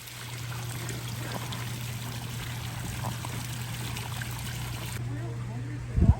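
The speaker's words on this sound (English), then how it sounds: "They do have this gorgeous water feature." Water steadily pours and trickles over rocks at an outdoor water feature at Crazy Horse Memorial, a constant close stream, with a brief splash or bump at the very end.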